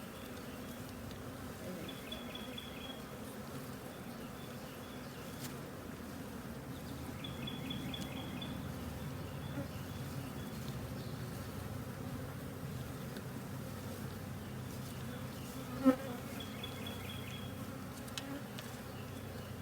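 Honey bees buzzing around a hive during a honeycomb harvest, a dense continuous drone close by with a few faint bird chirps in the background and one brief knock.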